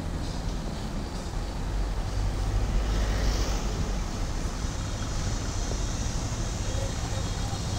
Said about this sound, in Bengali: এই যে আরেকটা লঞ্চ চলে আসছে, এটা হয়তো বালু আনলোড করে চলে আসছে।